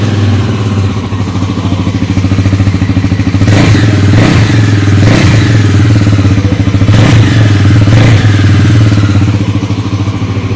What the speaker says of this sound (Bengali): আপনাদেরকে বাইকের সাউন্ডটা একটু শোনানোর চেষ্টা করি।